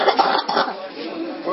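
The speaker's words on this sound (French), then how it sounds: "Faut bien tousser, faut pas tousser dans la bouche." A single short harsh cough, close and loud, followed by a rough breathy throat sound fading out.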